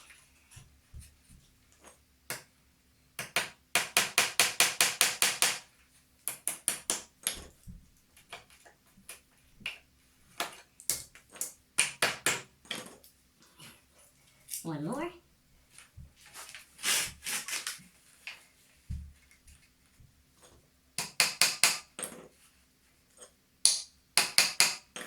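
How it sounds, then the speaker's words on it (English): Bursts of rapid sharp hammer taps and knocks come in short clusters with pauses between, close by, with a brief spoken phrase partway through. "and then hit it down with the hammer"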